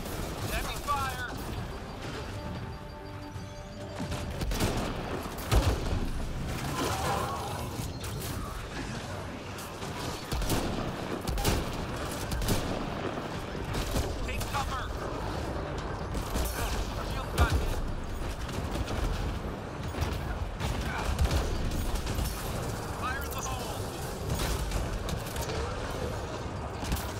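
Dense, continuous gunfire from Mass Effect Andromeda multiplayer, with a human soldier using starting guns, rattles steadily through the whole stretch alongside blasts, impacts and brief voice callouts.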